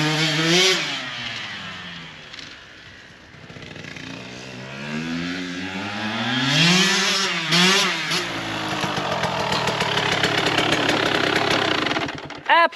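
Engine of a KTM 125 SX two-stroke dirt bike with a newly installed jet kit revs up and down repeatedly, climbing to a buzzing, rattly high pitch and ending abruptly, loud and close.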